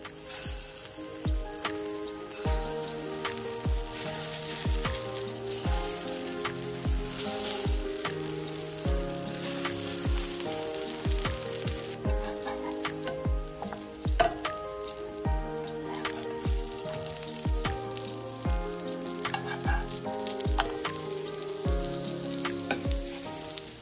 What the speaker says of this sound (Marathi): त्याच्यामध्ये हे टिक्की एक एक करून सोडते.